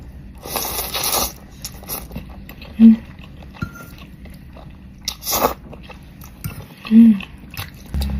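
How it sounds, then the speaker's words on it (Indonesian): Close, crisp mukbang chewing and biting on Kanzler sausages and chicken nuggets, with several distinct crunchy bites spaced irregularly over a quiet background and no talking. "Mukbang di sebelah lagi, sosis Kenzeler sama nugget."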